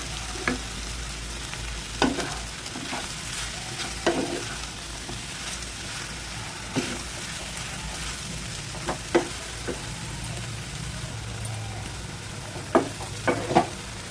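Chili powder fries in oil in a pan for a potato tomato curry, giving a soft continuous sizzle punctuated by occasional scraping stirs of a spoon, close and moderately quiet.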